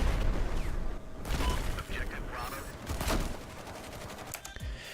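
Gameplay audio from a shooter video game: dense automatic gunfire and rapid shots layered with booming explosions in the background, loud and continuous, with a faint voice underneath.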